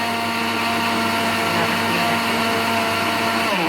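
Lentils being ground in a kitchen blender make a continuous loud motor whine with a gritty churning texture, running steadily throughout and shifting pitch slightly near the end.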